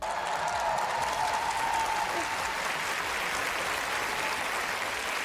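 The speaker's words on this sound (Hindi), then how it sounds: "तालियों की गड़गड़ाहट से गूंज उठा" A stadium crowd bursts into sustained, thunderous applause after the national anthem at a charity event, a dense continuous roar of clapping at a steady high level.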